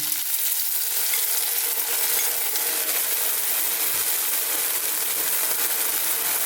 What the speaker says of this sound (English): we're going to add our sauce in there